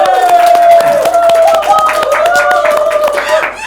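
Audience applause at a classroom presentation: dense, steady clapping from a group filling the space, with a voice and a tonal sound running over it.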